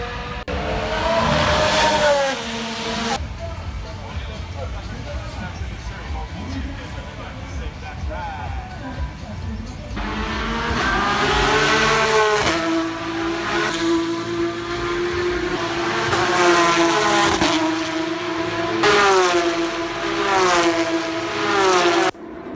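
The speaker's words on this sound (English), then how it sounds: "It's the practice for the Porsche Cup cars." Porsche Cup race cars pass on track during practice, engines rising and falling in loud, repeated high-revving passes with shifting pitch, from medium distance, with people talking at times over the noise.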